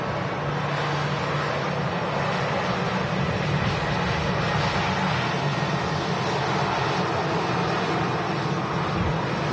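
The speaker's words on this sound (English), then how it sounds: "Whiskey Lima on the reg of this easyJet A320 with the sharklets" easyJet Airbus A320 with sharklets at Manchester Airport, a steady broad roar of jet engines mixed with chilly wind buffeting the microphone, continuous throughout.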